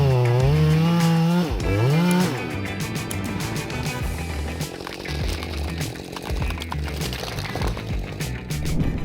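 A chainsaw cuts into a huge tree, the engine revving high and swooping at the start before settling into a steady, loud grinding bite through the wood.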